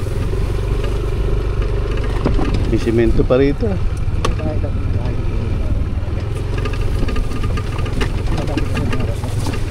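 A motorcycle engine running with a steady, loud low rumble throughout, while people talk over it outdoors in a rural area.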